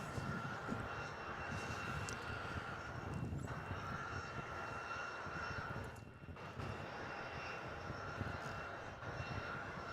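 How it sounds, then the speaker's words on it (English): Airbus A320 jet airliner turning onto final approach near Melbourne Airport, a steady broadband engine roar and rush from a distance that holds across the whole stretch, with no talk. "Jetstar 220 is just turning final over Oakland's Junction, mate. He's a 320 in from Queenstown, New Zealand."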